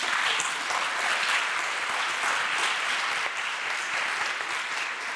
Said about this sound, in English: I think both of them need a round of applause